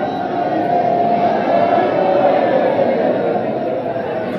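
Dense crowd chatter at Baba Baidyanath temple in Deoghar, a steady murmur of many voices close by and even throughout, with no single voice standing out.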